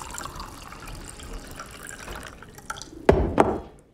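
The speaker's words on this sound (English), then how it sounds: "I just poured him a pint of whiskey." Whiskey pours into a glass, a watery splashing fill that ends in two sharper clinks or splashes near the end, heard close over a low room murmur.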